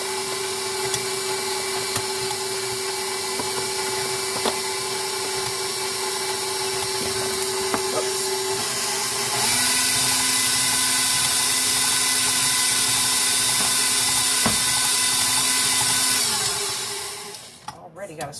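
An electric stand mixer fitted with a whisk attachment runs steadily through dry ingredients for chocolate whipped cream frosting, a loud continuous motor whine that shifts speed partway through and then stops near the end.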